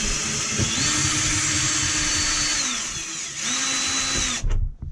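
Power drill backing brass flathead screws out of the aft cabin of a boat, a steady whine with two clear pitch ramps as the motor speeds up and slows, close and loud, ending abruptly.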